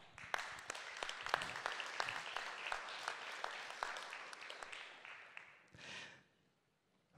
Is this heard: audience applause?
yes